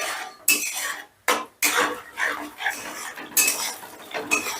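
A spice paste mixed with yogurt is stir-fried in a pan, with a utensil clattering and scraping against metal in quick irregular strokes, close up, over a soft frying hiss.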